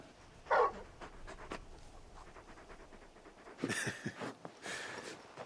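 A large dog pants in quick, breathy bursts in the video game Final Fantasy XVI, with short pauses between rounds of panting and faint background sounds.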